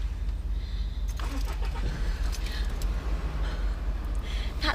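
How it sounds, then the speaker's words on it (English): A stalled car engine is cranked and restarted, a short burst of starter and engine noise over a low idling rumble, with brief clicks and rattles in a quiet interior. "And then restart the engine."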